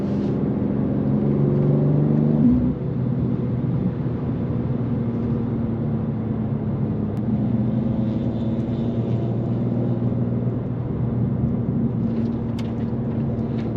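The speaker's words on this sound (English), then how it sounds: "You guys hear his car, man. It sounds good." A sports car engine drones steadily while driving along a backroad, a constant low rumble heard from inside the cabin with a brief revving swell near the start, no talking.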